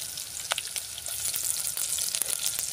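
Masala paste frying with chopped onions in a pan, giving a steady close sizzle with a few sharp crackles and pops, and no one talking.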